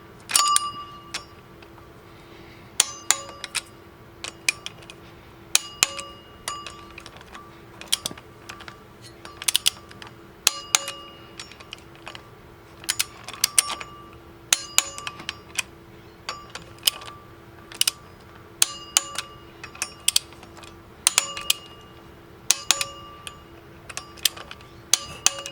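Flywheel bolts on a Camaro clutch are tightened with a ratchet, giving many sharp metallic clicks in irregular bursts over a faint steady background hum.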